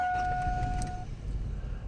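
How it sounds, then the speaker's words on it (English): A GMC truck with a bad ignition switch starting up, a close continuous rumbling engine with a steady high whine at the start and keys rattling, no talk. "So the car just turned on."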